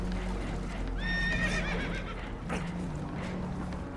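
Spooked horses in Red Dead Redemption 2 let out a loud shrill neigh near the start, with faint clip-clop and a second weaker whinny under rough background noise on a boat.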